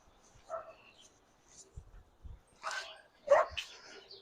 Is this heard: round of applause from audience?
no